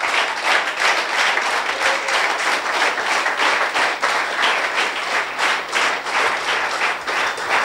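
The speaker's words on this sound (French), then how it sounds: "Je veux bien aimer que vous puissiez les applaudir encore." A church congregation claps together in applause, loud and sustained, with individual claps pulsing through a continuous crowd sound for several seconds.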